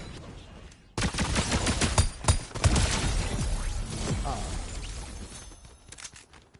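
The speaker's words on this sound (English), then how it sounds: "I can't tell if that's SMG or an assault rifle" Automatic rifle or submachine gun fire in Fortnite, a battle royale game: after a quiet start, rapid bursts of shots crackle loudly, trailing into scattered distant pops as the firing fades.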